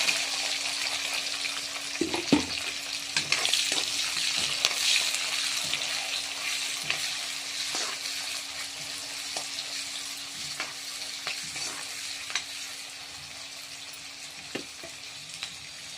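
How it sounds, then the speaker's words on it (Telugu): Onions frying in oil after mustard seeds have spluttered, a constant crackling sizzle up close with scattered stirring clicks and a low steady hum beneath. "ఆవాలు చిట్టుపట్టుమన్నాక ఉల్లిపాయలు వేస్తాను."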